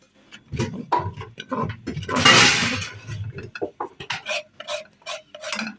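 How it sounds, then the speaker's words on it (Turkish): Flour roasting in a pan with a little oil is stirred, making irregular close scraping and rasping strokes, with a brief louder rustling burst partway through. "Unumuzu kavuruyorum."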